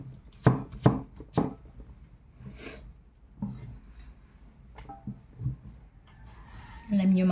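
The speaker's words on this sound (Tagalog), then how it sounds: "yung paghihiwa natin sa ating upo" A knife slices thinly through bottle gourd (upo) on a cutting board, giving a few sharp, separate chops early on followed by softer, sparse cuts, with a voice talking in the background.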